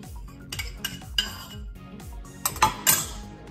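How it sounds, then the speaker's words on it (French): Diluted yeast being mixed into batter in a bowl, with repeated clinks and scrapes of a utensil against the bowl in an uneven rhythm and a low cyclic whirring underneath. "Je mélange"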